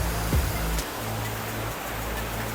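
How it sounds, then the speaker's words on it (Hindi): Bhagsunag waterfall in McLeod Ganj, Dharamshala, a constant, full rushing roar of falling water heard close by, steady throughout with a low droning undertone. "तो फाइनली भक्षुनाग वाटरफॉल"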